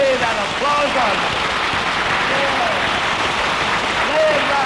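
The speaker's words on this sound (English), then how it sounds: "Lay that applause on me." Studio audience applause at a radio comedy show, broad sustained clapping that fills the whole stretch, with faint whistle-like tones rising above it.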